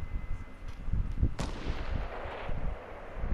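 Single sharp gunshot in Fortnite battle royale, fired at an enemy base during a sniper game, a loud crack followed by a fading rumble over a low, busy game background.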